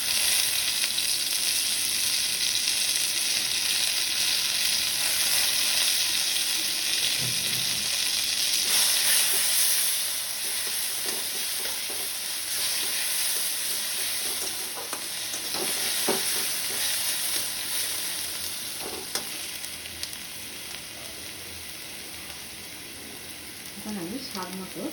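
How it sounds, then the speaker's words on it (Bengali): Onion paste fries and gets stirred in a pan: a loud, close sizzle that softens after a while, with repeated scraping strokes of the spatula against the pan throughout. "বাটা পেঁয়াজটা দিয়ে দেবো।"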